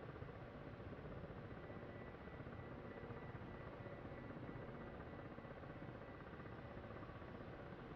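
A Mi-28 attack helicopter approaching from the southeast in a combat video game, heard as a faint, steady rotor drone held at a constant level throughout, with no voices.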